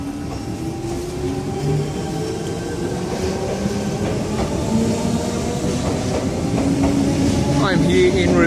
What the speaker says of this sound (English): We have an 8-car Tangara bound for Cronulla.